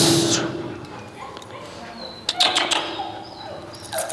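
A dog gives short yips and barks among other dogs at an outdoor training seminar in New Jersey. Several sharp bursts come over a busy background, and people talk throughout.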